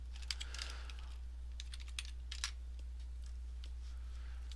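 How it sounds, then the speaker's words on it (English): Light typing on a computer keyboard in a quiet room: quick irregular clusters of soft key clicks, close and faint, over a steady low mains hum, with no talking. "If I can start typing correctly."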